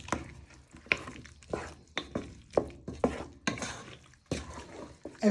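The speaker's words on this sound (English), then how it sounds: "So you want to give it a good stir." A spoon scrapes and stirs thick smoked haddock chowder in a pan, nearby and moderately loud, in irregular strokes with soft clinks against the metal.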